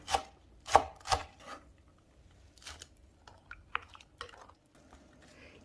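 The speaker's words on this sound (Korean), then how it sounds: "대파 한 대도 송송 썰어서 잘섞었습니다" A knife chops green onion on a cutting board in a few sharp, separate strokes, then lighter, quicker taps follow, close and crisp in an otherwise quiet kitchen.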